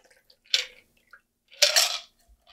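A cocktail pours through a Hawthorne strainer into a glass in two short splashing bursts, liquid and ice rattling against the metal, close and clear against near silence.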